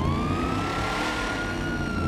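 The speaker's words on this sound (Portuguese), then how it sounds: "Liga a sirene." A police car siren in the video game GTA 5 wails continuously, a loud sustained tone over engine and traffic noise with no talk.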